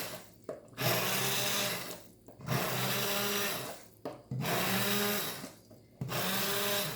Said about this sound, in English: I'm letting the merchant blender actually cut up all my veggies for me.